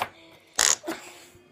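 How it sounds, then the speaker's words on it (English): Hot pink neon putty slime squished by hand lets out a short, sharp squelching fart-like burst, followed by a softer second squelch, in an otherwise quiet room. "it makes a fart sound."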